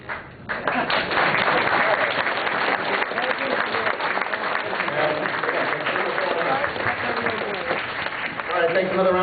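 Applause and cheering from a convention crowd at a closing ceremony honoring volunteer staff, steady and loud for the whole stretch after a brief quieter start.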